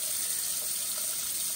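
Water runs steadily from a tap in an RV to make the pump cycle, a continuous close hiss of flow with no voices.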